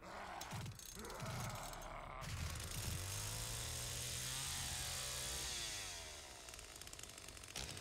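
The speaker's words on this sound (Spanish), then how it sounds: "enciendo la motosierra para destruir" A chainsaw revs up and drones at a steady pitch in the video game The Texas Chain Saw Massacre, with mechanical clatter at the start and the engine fading near the end.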